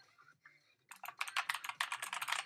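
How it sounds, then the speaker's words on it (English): Fast typing on a mechanical keyboard, dense clacking keystrokes starting after a brief pause with some faint earlier taps, close and fairly quiet, no voices over it. "I love mechanical keyboards. As much as I love the clacking"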